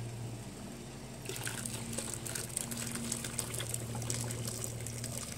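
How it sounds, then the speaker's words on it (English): Water gushes steadily into a canning pot holding tall jars of hamburger relish, a continuous close pouring rush lasting several seconds over a low hum. "I don't have enough water in here to cover up these taller jars, so I'm going to need to add some."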